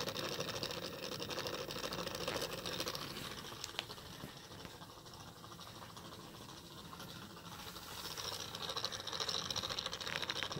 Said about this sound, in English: See the motor? On the bottom.